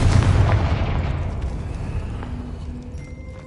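A Confringo blasting spell detonates in Hogwarts Legacy, a loud booming explosion that hits at once and then rumbles away over a few seconds, heard alone.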